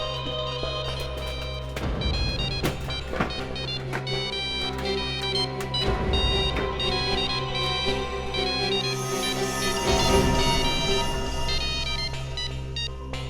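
A mobile phone rings from inside a closed trunk, its tonal ringtone melody repeating steadily for several seconds, loud and continuous, with thumps and scraping noises mixed in.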